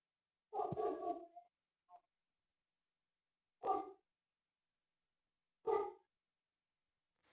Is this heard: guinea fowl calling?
no